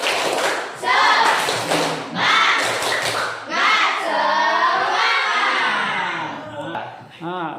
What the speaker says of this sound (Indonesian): Lanjut dengan tepuk semangat sekali.